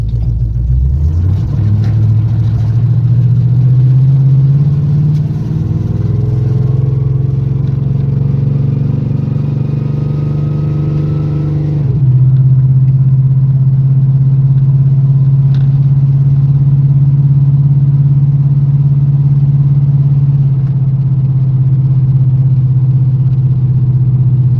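A car fitted with an oversized carburetor revs hard up through the range, then settles into a loud, steady high idle with a throaty rumble; the engine fills the whole clip with no talking.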